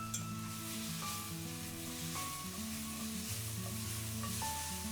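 Onions sweat in olive oil in a hot pan, a soft continuous sizzle heard quietly beneath steady tonal background music.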